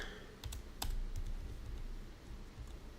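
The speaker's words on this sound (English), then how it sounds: "I'm still typing up the list of people." Fingers type quietly on a computer keyboard, with a few scattered key clicks over a faint background hum and no speech.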